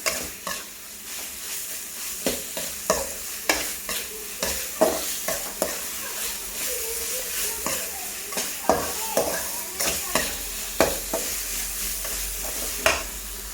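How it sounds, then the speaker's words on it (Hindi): Mutton pieces fried and stirred on a high flame, with a continuous sizzle and rhythmic spatula scrapes and knocks against the pan, close and fairly loud, with no talking. "गाइस इसको अच्छे से भुनेंगे अभी फास्ट गैस पे, तेल छूट जाए इतना"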